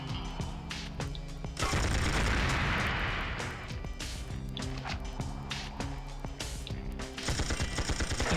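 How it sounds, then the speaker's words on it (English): Assault rifle fire in the PS1 game Tomorrow Never Dies: bursts of loud gunshots with booming impacts, dense rapid volleys through the middle and more scattered shots later, set against game music. "let's get the assault rifle out now"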